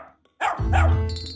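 Toy robot dog in a cartoon barking once, a loud close bark with a gruff tail, standing alone after a brief quiet moment.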